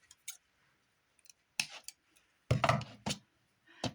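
Scissors snipping through cardboard scraps for a junk journal, a few short separate cuts and clicks with quiet gaps between them, close by.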